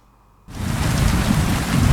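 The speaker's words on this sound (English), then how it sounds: "Now I'll take some shelter from the rain" Heavy rain and thunder in Kingdom Come: Deliverance 2, arriving abruptly after a quiet moment, then a dense, loud downpour with deep rumbling underneath.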